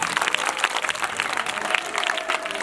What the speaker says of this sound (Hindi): अब ताली बजा दीजिए।